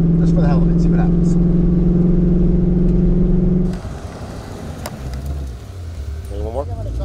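A Shelby GT500 with traction control on makes a hot-lap pass. A loud, steady engine drone holds for several seconds, then cuts off abruptly and leaves rumbling, scattered noise with light voices.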